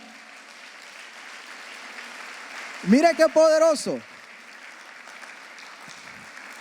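A church congregation breaks into applause, a short burst of clapping of about a second under a preacher's raised voice, then the room settles back to quiet.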